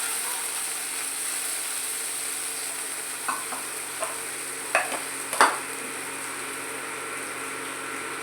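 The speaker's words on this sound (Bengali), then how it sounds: "এবারে আমি সেদ্ধ ডাল বাটাটা দিয়ে দিলাম," Boiled chana dal paste fries in a pan under a constant soft hiss, with a few spoon scrapes and clinks clustered in the middle.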